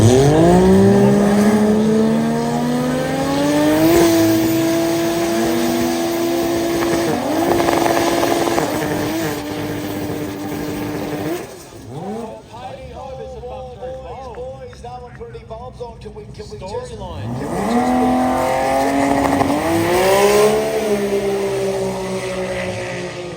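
Import drag cars at a Brisbane drag jamboree, rotary and turbocharged RB and 2JZ engines, roar past with rising, revving engine pitch and gear changes, loud and close, then fade before another pass builds again.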